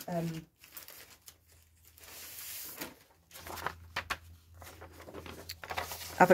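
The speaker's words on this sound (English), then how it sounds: "this is avocado dyed paper" Sheets of avocado-dyed paper being handled, with intermittent crinkling and rustling bursts separated by quiet gaps, close and moderately soft.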